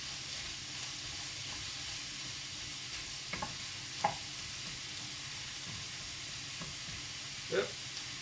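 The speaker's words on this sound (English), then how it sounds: "Stir that up, get them nice and soft." Vegetables for a vegetarian stir-fry sizzling steadily in a hot pan, a constant soft hiss with a few brief clicks and scrapes of stirring, quiet and close.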